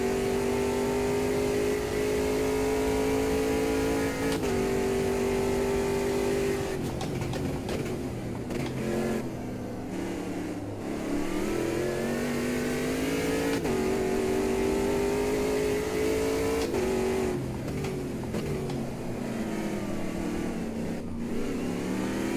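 Race cars in Automobilista 2, with one car leaving the pit lane, give a steady loud mid-pitched engine drone that rises and falls as the drivers shift gears. Several engines overlap throughout, and no voices are heard.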